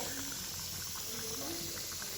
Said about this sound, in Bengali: এই যে আমার চিলি চিকেন ফুটছে,